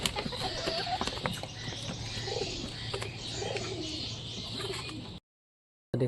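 Pigeons coo repeatedly in a soft, steady rhythm at close range, layered with a few chirps over a constant background hum before the sound cuts out abruptly near the end.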